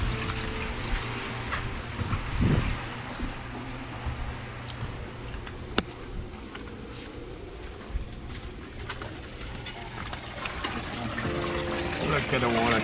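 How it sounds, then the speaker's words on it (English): Water drains from a backyard koi pond filter into a plastic storage box, a steady trickling and splashing pour with faint pump hum, moderately close, continuing evenly under occasional background noises. "Look at the water coming out."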